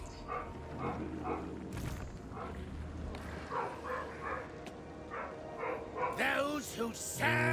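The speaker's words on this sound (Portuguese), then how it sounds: "os cachorros ficam com maluco aqui" Dogs in a dark fantasy video game barking and yipping in short bursts under ongoing talk, with a louder burst of barks near the end.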